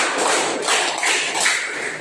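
A class claps a counted rhythmic clap pattern, a dense continuous wash of many hands clapping together at close range in a classroom, with no clear voices.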